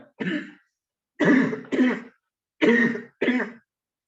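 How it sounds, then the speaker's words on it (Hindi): Someone nearby coughs and clears their throat in five harsh bursts, grouped in pairs with short silent pauses between. "ज्यादा खांसी हो गई।"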